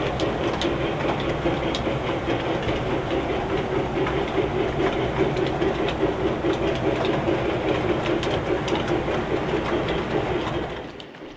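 A train rolls steadily through Annville yard with a continuous loud rumble and rhythmic clickety-clack of wheels, fading slightly at the very end.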